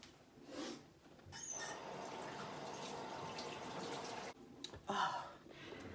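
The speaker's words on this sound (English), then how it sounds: "let me wash my hands." Hands are rinsed under a running kitchen tap after handling grapefruit and celery: a steady splashing stream for a few seconds, with soft clunks as the tap opens and closes.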